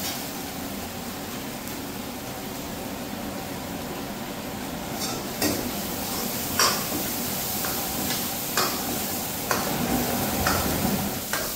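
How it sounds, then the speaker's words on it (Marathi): Big pieces of fresh mutton fry in a pan at a roadside eatery, giving a steady, dense sizzle that runs throughout, with occasional clinks and scrapes of a utensil cutting through it. "त्यात मटन फ्राय चालू आहे."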